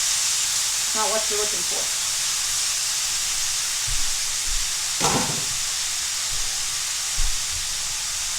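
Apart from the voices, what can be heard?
chicken and steak sizzling in a pan for fajitas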